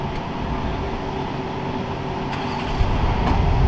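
BMW cars running laps on a wet skid pad at a BMW driving school, a steady broad engine and tire rumble at moderate distance that swells slightly near the end, with no talk.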